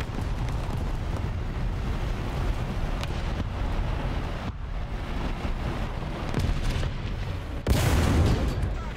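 Artillery fire booms in the War Thunder tank game, heavy low rumbling over constant engine and wind-like noise, with a sharp loud blast near the end.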